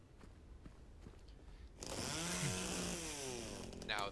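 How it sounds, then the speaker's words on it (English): In the 2024 Silent Hill 2 remake, a chainsaw revs up abruptly against a window, a loud, harsh, buzzing roar that cuts in after a quiet stretch and keeps grinding to the end. "Now that's a strong window. It's able to hold up against a whole chainsaw."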